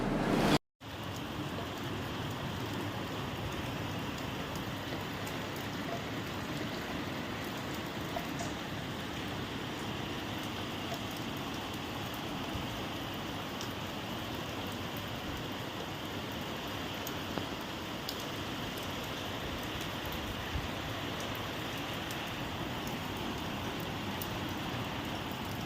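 Light to moderate rain falls steadily in Hyderabad, a soft continuous hiss at low level with no breaks, after a brief louder moment at the very start.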